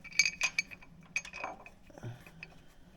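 Metal bolts clink against each other and against a motorcycle part as they are set into place while a crash bar is fitted to an Indian Sport Chief, several light, close, sharp taps followed by a soft low knock.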